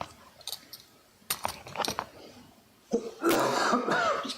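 A few separate coughs and throat-clearing bursts, close to the microphone, followed by a harsher, longer coughing fit.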